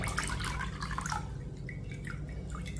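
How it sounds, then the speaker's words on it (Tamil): Water drains from soaked ragi held in a sieve, a close, soft trickle with scattered drips, continuous and faint. "இதை ஜல்லடையில் தண்ணியை நல்லா நிறுத்துக்கிடுவோம்."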